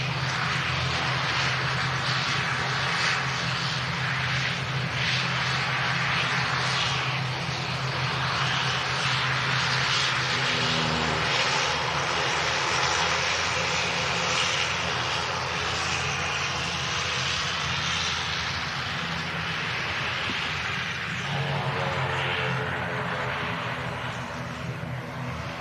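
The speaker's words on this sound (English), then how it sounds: "flight 2E Dreamliner heading off to Bridgetown, Barbados." Boeing 787 Dreamliner engines at an airport, a loud continuous jet roar with broadband rushing noise and steady low hum that persists throughout, shifting tone slightly near the end, with no talk.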